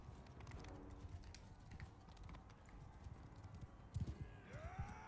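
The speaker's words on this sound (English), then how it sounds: "Let's pop up on this horse." Horse hooves clip-clop in the medieval combat video game Mount & Blade 2 Bannerlord, a run of irregular hoof beats amid battle noise that grows louder and more distinct toward the end.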